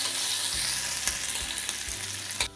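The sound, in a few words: ginger, chili and garlic frying in a pan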